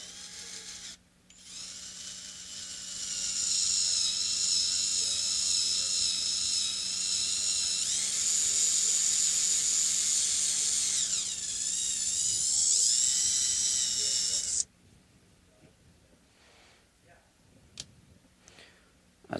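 An electric drill bores holes into a Telecaster-style guitar body during a partscaster build, a high steady whine running about thirteen seconds with shifts in pitch as it cuts, then stopping abruptly into quiet handling noises.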